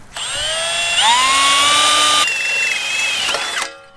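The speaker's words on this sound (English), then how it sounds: "So thankful that drill bit didn't just break on us because that worked so well." Power drill boring through wood while building a DIY skatepark, a loud steady whine running for about three seconds, shifting pitch partway through before winding down and stopping.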